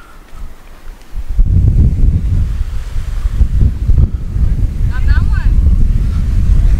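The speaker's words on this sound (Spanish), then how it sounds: "Ahí viene la ola esa, va a reventar, mira." Ocean waves break and rush onto a California beach, a loud, rolling roar of surf mixed with heavy wind buffeting the microphone.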